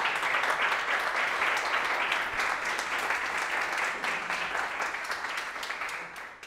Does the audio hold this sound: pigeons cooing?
no